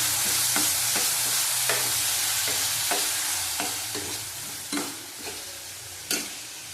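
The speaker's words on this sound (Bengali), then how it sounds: "দেবো পেঁয়াজ কুচি, ভালো করে ভেজে নেবো" Chopped onion fries in hot oil with clove and cinnamon in a pan, a steady close sizzle broken by the repeated scrape of a stirring spoon, and no talking.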